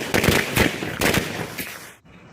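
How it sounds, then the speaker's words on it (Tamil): A string of firecrackers goes off beneath an egg during a Diwali celebration, giving a rapid run of loud, sharp bangs for about two seconds before breaking off into near silence and one last pop. "அடுத்தது சரவடி மேலே முட்டை வச்சு வெடிக்க போகிறோம்."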